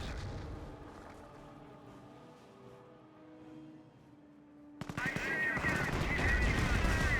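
Gunfire erupts in a Company of Heroes 1 battle between Wehrmacht and British forces, with rapid machine-gun bursts and shots growing dense and loud after a quieter, murky stretch of ambient battlefield noise.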